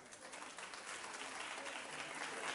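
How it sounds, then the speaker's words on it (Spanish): Audience applause for a children's string orchestra at a music achievement day, a steady dense wash of clapping held at an even level throughout, fairly quiet and distant. "Un aplauso."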